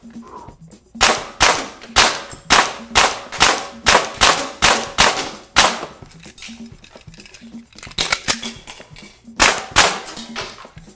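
Handgun shots fired from a holster rig ring out loud and close in rapid strings of sharp cracks, a first burst of about ten evenly spaced shots, a pause, then a few more, with no talk.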